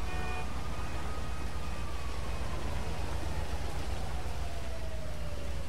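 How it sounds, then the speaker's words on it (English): Steady rain pours in the Grand Theft Auto 5 video game, a constant dense hiss that fills the scene without pause, with a faint vehicle tone drifting underneath. "Raining."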